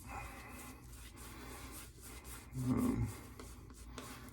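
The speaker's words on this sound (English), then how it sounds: "just lathering it up here and off the puck inside my nice Williams rubber shave mug" A shaving brush works lather from a soap puck inside a Williams rubber shave mug, giving a steady wet rubbing and rasping swirl that swells louder near the end.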